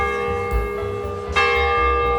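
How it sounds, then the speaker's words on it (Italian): A church bell rings in a town street lined with market stalls, its sustained metallic tone humming steadily and struck again near the middle with a fresh clang, loud and close. "Scusate, ma c'è la campana che..."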